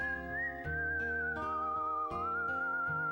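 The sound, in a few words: whistling music from the video game Wild Arms 3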